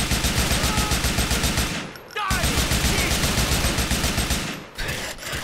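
Rapid automatic gunfire in a video game, loud and close, sustained bursts with a brief gap near two seconds and another near the end.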